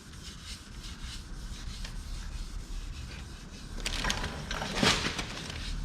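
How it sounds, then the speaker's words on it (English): Steady rubbing of sandpaper over a Buick's thin factory clear coat, a continuous scratchy rasp that grows louder and more vigorous toward the end, with no talking. "I don't want to sand too much up here because the factory clear is always real thin"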